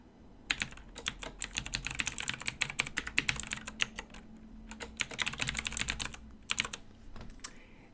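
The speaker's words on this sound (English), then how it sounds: "So let's go ahead and type in Jane Doe." Quick, close keystrokes on a computer keyboard type a name, clattering in uneven bursts with a few brief pauses between words.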